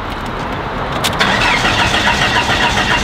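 A Mercedes-AMG E63S, reportedly flooded and leaking, cranks and then catches. A loud, close engine rumble rises about a second in and carries on steady to the end, with no talking.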